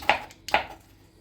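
Two crisp knife strokes through vegetables being cut into cubes on a cutting board, close and clear, followed by a brief quiet tail.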